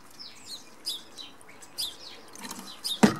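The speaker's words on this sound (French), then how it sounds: "Écoutez les oiseaux, c'est trop fort." Birds chirp and tweet in short scattered calls outdoors, with a sharp louder sound near the end.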